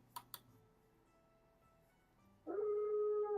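A werewolf howl effect plays as a long, sustained rising and holding wail that starts loud and abruptly after a brief quiet stretch with a couple of faint knocks.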